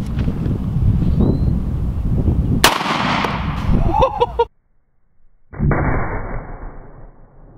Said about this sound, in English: for the next test, we'll do this gold Desert Eagle 50 AE